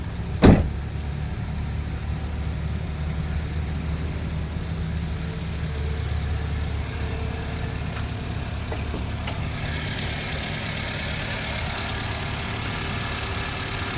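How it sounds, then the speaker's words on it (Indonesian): A sharp latch click as the engine hood of a 2004 Daihatsu Xenia Xi 1300cc is released, followed by a steady low rumble of the car for the rest of the scene. "Kita buka kap mesinnya ya."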